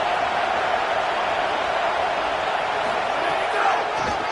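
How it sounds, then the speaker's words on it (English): A large football stadium crowd roars in a steady, dense wash of noise that holds at an even level throughout, loud and continuous with no breaks. "This crowd ready to make its presence known."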